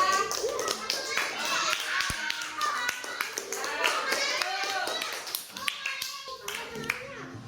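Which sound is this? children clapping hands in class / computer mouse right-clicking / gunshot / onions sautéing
children clapping hands in class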